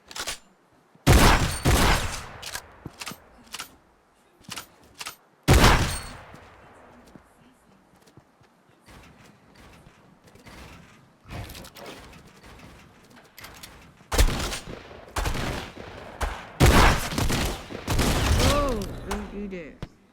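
Tactical shotgun in a creative-map shooting game, firing in loud, sharp bursts and rapid volleys with quieter gaps between, mixed with other game effects.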